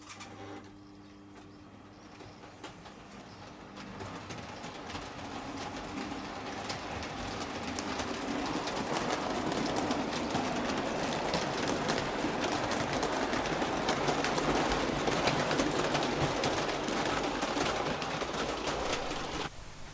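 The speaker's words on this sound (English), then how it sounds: "The Atlantic runs light engine to the sheds for servicing." A model Atlantic steam locomotive running light engine on a layout gives a continuous mechanical whirring and rattling that builds gradually and holds steady, close and fairly quiet, with no voices.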